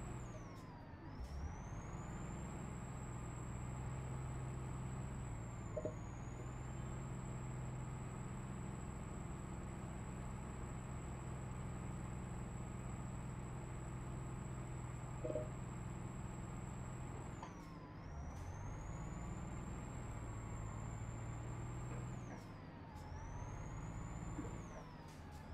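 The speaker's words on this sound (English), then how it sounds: "Truck doesn't always want to go into gear when I'd like it to." A heavy truck in Euro Truck Simulator 2 hauling steel containers, with a steady engine drone that dips as gears shift several times, plus faint clunks and air-brake hisses.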